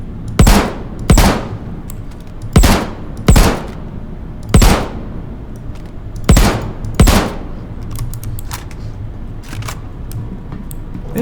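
Ship weapons firing in Star Citizen, on the biggest ship in the game, come as sharp, evenly spaced single shots, several loud reports followed by fainter ones over a low hum.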